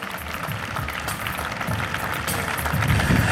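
Applause and crowd noise from a strongman competition audience at the Trois-Rivières Expo, a dense, steady wash of clapping that swells slightly toward the end, with no distinct voices on top.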